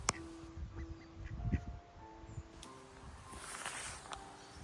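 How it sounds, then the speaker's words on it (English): Ducks crowd around at a Highland loch, giving soft, scattered quacks close by amid faint rustling and footsteps outdoors. "I think I've got loads of ducks here anyway."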